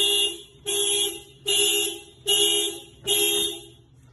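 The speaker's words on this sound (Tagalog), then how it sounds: "Ngayon, pag binuksan mo yung pinto niyan, mag-alarm yan." A Toyota Hilux car alarm, faulty and set off by a bad hood switch, blares loud and close in five evenly spaced horn blasts, each lasting just under a second.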